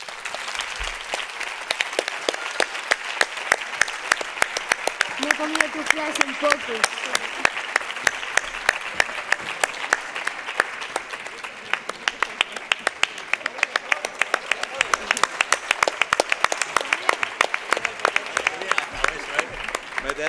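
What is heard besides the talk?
strong audience applause for teacher Rafael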